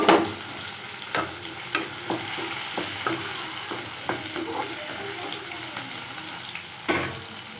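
Urad dal frying with golden onions in oil for a spicy chutney, a steady close sizzle broken by repeated sharp scrapes and clicks of a spoon stirring the pan, with no talking.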